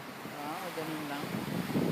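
Big ocean waves rolling in at Bondi Beach in Sydney, a steady broad wash of surf under gusting wind noise, with excited voices talking over it and a louder surge near the end.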